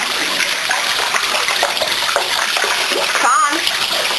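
Water running and gurgling out of a bathtub after a pit bull terrier's bath, a steady broadband wash throughout with a brief louder splash near the end, while a voice is faintly audible.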